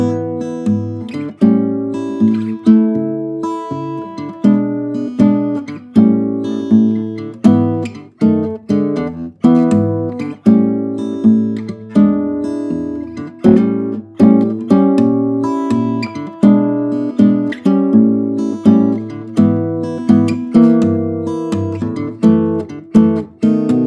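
A full blues chorus played on a keyboard with diminished chord substitutions and secondary dominants, rhythmic chords with a walking bass line, steady and clear with no talking.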